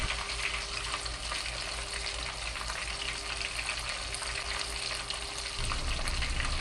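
Food fries in oil in a small Asian fry pot, a loud, continuous crackling sizzle that swells a little near the end.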